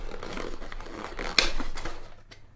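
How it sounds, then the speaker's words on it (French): A small parcel being opened, its packaging crinkling and rustling steadily with one sharp tearing snap partway through, close and fairly quiet. "je vais ouvrir ce petit colis aussi"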